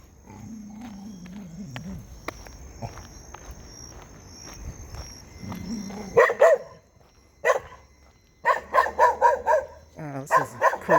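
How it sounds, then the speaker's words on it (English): Dogs bark in a residential cul-de-sac neighborhood, with a burst of repeated barks near the middle and another rapid series toward the end, over faint crickets and a soft background hum. "Lots of dogs in the neighborhood."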